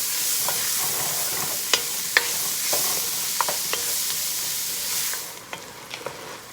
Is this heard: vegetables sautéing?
yes